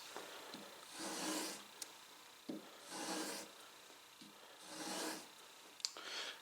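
A tool bevel is ground on a Shopsmith belt sander with a fixture, the blade rocked back and forth against the belt. Three or four soft rasping passes of about a second each come with short pauses between them and small clicks, fairly faint.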